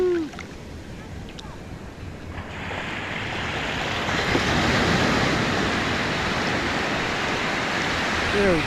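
Ocean surf at night at Old Orchard Beach, Maine, a broad rushing wash of waves that swells louder after a few seconds, with wind noise on the microphone and some faint voices.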